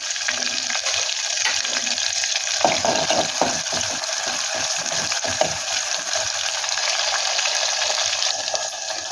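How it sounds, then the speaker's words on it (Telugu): Onions frying in hot oil at the start of a dried prawn and tomato curry give a steady, close sizzle with a few stirring scrapes and clicks; no voices. "నూనె వేడిన తర్వాత ఉల్లిపాయలు వేసుకోవాలి ఉల్లిపాయ మొత్తం బ్రౌన్ కలర్ రావాలి"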